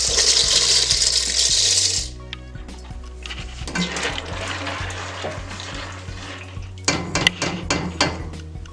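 Dry shell pasta tips into a pot of boiling water, a hiss and rush of noise at first, then faint bubbling with scattered clinks of pasta and metal and a few sharp knocks toward the end.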